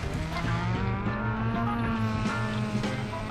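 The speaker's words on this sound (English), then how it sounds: "Thing sounds like a proper rally car." A rally car engine in the video game Driver: San Francisco roars steadily throughout, with a dense, gravelly drone rising and falling slightly like a car pushed hard, no voices.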